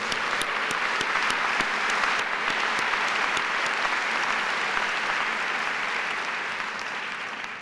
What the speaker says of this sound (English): please join me in giving a round of applause to the late Professor Jerome Culp